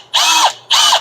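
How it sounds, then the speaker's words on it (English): Two short bursts of a power drill boring into a plastic chair leg, each about half a second, whirring loudly with a brief pause between them. "I'm just going to drill the indents out of it slightly."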